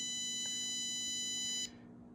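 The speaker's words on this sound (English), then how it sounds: "we can get to the stall warning around there when the buzzer will activate" Stall warning buzzer on a flight sensor lab device, a steady high electronic tone sounding alone for about a second and a half before cutting off abruptly.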